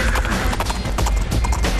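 Dense, loud, rapid hoofbeats from a show horse, a proven Maclay winner, filling the whole stretch with rhythmic thuds and a busy background.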